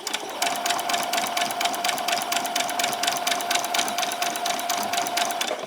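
A domestic sewing machine runs a short back stitch on a pyjama top, a steady close whirr with rapid even needle clatter for about five seconds and no voices.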